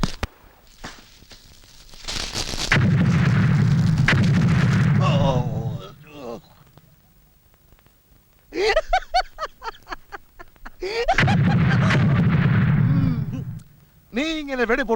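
Kathina firecrackers bursting at a temple festival, two long thunderous booming volleys with sharp cracks at the start, loud and close, with people talking between the bursts.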